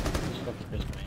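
Rapid bursts of automatic gunfire from a shooting video game, a quick run of loud, close shots packed into about a second, with a voice faintly underneath.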